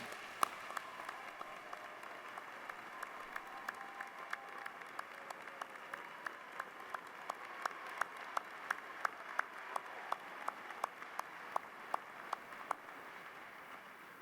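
Graduates and guests at Samford University's fall 2019 commencement applaud the standing faculty and staff, a steady, moderately distant wash of clapping from a large crowd that holds for the whole stretch, with sharper individual claps standing out.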